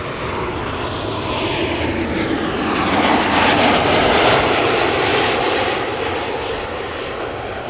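A KLM Boeing 737 arriving and landing at Amsterdam makes a loud, continuous jet roar that builds toward the middle and slowly eases, heard alone and close.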